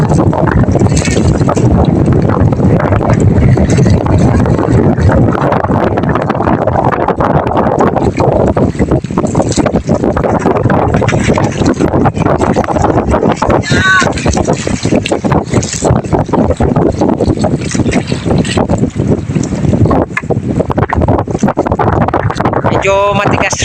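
Strong coastal wind on the shore at Sorsogon, Philippines, blowing as a steady loud broadband roar and buffeting the microphone throughout, with a voice speaking over it.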